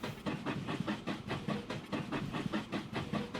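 Trains running through a busy junction in the Transport Fever 2 simulation game. A steady rhythmic clatter of wheels and chuffing, moderately loud, repeats evenly with no voices over it.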